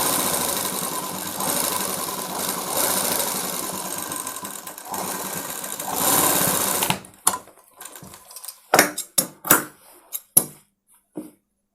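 A sewing machine stitches a school uniform coat, running in a continuous loud whir for about seven seconds, then stopping and starting in short separate bursts.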